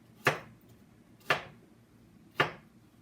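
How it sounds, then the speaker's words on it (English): A knife chops peeled apples into small chunks on a board, three crisp separate cuts spaced about a second apart, close and fairly quiet with no talking. "So then I'm just going to kind of cut them into little chunks and throw them in the pan."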